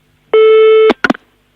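A telephone line tone after a prank-call hang-up: one loud, steady beep lasting about half a second, followed by a couple of brief, clipped blips, then silence.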